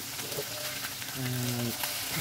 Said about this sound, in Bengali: এখানে মাছটা সরিষার তেলে ভেজে নিচ্ছি